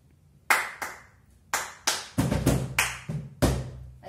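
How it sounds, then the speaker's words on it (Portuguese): Sharp hand claps in a music lesson keeping a song rhythm, several crisp close strikes spaced in pairs with short gaps between them, some slightly doubled, no voices present. "Vai ser duas palmas."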